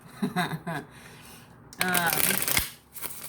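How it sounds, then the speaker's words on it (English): Brisk riffling and snapping of a deck of tarot cards being shuffled, several bursts close to the microphone, with some soft talking in between. "I'm just gonna shuffle a little bit, get my energy into the cards"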